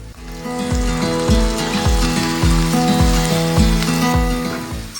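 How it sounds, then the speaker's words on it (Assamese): Bamla fish fries in a kadai after onions, a steady hissing sizzle running under louder background music. "চাৰি 5 মিনিটমান মাছখিনি ভালদৰে ভাজি ল'ব লাগিব।"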